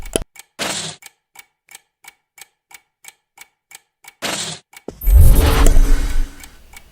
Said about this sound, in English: Whose clock be ticking that damn loud?